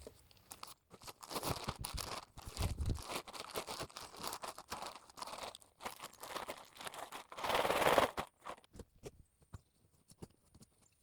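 A plastic bag of Black Cow compost is torn open and handled outdoors, with irregular crinkling, tearing and rustling, a thudding bump, and a louder scrunching burst near the end.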